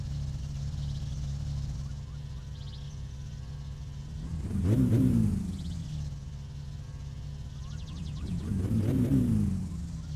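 A car engine in the video game My Summer Car idles rough and misfires, with a low uneven rumble that swells twice into louder revving surges before settling back.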